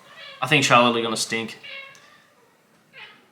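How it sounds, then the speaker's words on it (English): A pet cat meows indoors, its short mewing call coming after a stretch of someone talking, brief and moderately loud near the end. "That's my cat, if you can hear that."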